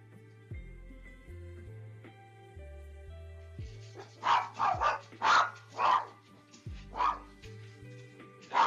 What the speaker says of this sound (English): Oh, the dogs are yelling.